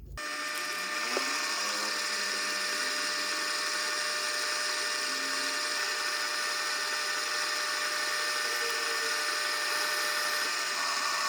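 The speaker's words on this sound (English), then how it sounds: "I'm going to turn the lathe on and move the chuck into the workpiece." A steady high-pitched machine whine with a constant motor hum runs throughout, broadband and unbroken, as a lathe spins while a center drill cuts into the workpiece.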